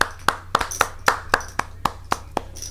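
A small group claps in a quick, regular rhythm of about ten sharp hand claps, close and crisp over a faint room background at a poker game livestream in Dallas.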